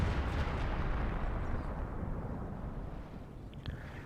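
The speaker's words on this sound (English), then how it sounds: "We saw the mortar hit over here" A mortar shell explodes in the Company of Heroes 2 strategy game, a loud rumbling blast that fills the whole clip and slowly fades, with a faint higher click near the end.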